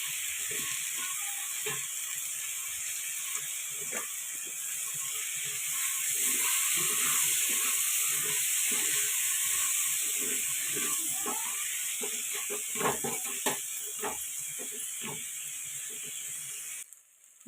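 Coconut rice frying in a pan, a steady loud sizzle and hiss throughout, with scattered scraping and clinking of a spatula stirring the rice close by.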